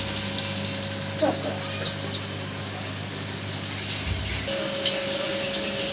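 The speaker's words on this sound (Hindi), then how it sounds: "ये जी मैंने प्याज डाल दी। फ्राई हो रही है।" Chopped onions fry in a pan with a steady, close sizzling hiss that runs the whole time, a low hum and a faint tone sitting underneath.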